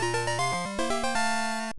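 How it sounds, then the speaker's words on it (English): Short chiptune item-receive jingle from Pokemon Gold and Silver, a bright square-wave melody of rising stepped notes over a bass line, played cleanly and loud for under two seconds with no talking. "the receive jingle that usually plays that sounds like this"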